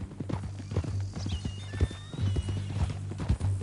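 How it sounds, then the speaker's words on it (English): In the Red Dead video game, a horse's hooves clip-clop in a steady close rhythm on the ground, with a brief whinny partway through under soft background music. "That a new horse?"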